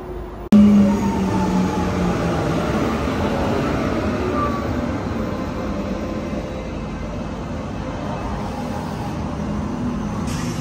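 A train pulls into Lisbon's Oriente station in Portugal, its deep rolling rumble starting abruptly and holding steady and fairly loud for several seconds, with no talk.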